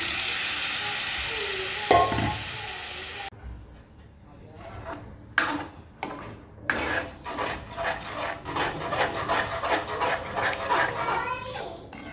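Pav bhaji is stirred into fried masala in a pan with a spoon, making scraping, clattering strokes over a soft sizzle. A loud hiss fades early, and children's voices are heard in the background.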